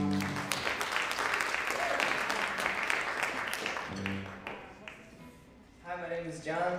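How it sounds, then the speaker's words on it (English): Audience applause and cheering for a high school band at a battle of the bands event, loud and sustained for several seconds, then fading as a voice begins speaking near the end. "let's give them a big round of applause"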